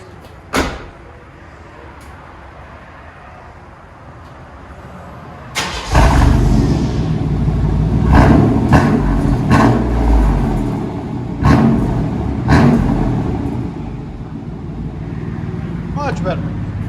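A 1996 Chevy Silverado V6 with dual straight-pipe exhaust, a Y-pipe and large tips sits quiet, then fires up partway through and settles into a loud, deep, close rumble with a few sharp revs.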